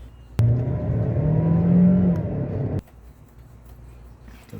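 A 2011 Toyota Camry engine is revved hard. The loud, steady roar rises in pitch and then cuts off abruptly, leaving a low background hum.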